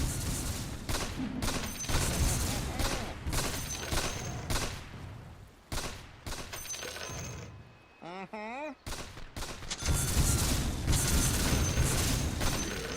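Rapid gunfire in a run-and-gun video game, dense bursts and volleys firing almost continuously with a brief lull partway through, loud and close with a voice speaking at times.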